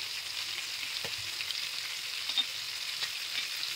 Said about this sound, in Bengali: হোল মশলাগুলোকে একটু ড্রাই রোস্ট করে এটা গ্রাইন্ড করে নিতে হবে।